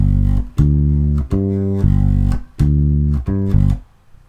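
Electric bass guitar plays a basic mambo groove built on root notes, octaves and fifths in G, a few clear plucked notes in a syncopated rhythm, loud and up front with no voices.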